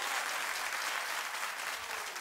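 A studio audience at a celebrity talk show applauds, a dense, even wash of clapping that stays loud from start to finish.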